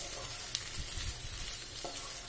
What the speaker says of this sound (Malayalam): സിമ്മേലിട്ട് നല്ലപോലെ വഴറ്റി